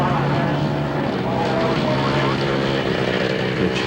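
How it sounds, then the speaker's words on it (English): A 4-stroke Honda scrambles motorcycle lapping a rural course, its engine droning steadily and loud throughout with a continuous buzzing drone, with other machines and crowd noise blended into the background. "On 4-stroke Honda. Cruising around, putting some laps under his belt."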